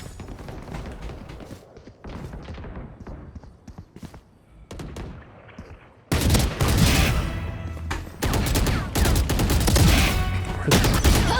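Gunfire in the Valorant video game, rapid bursts of loud shots and fusillades, sparse and muffled at first, then a sustained, dense barrage of close firing.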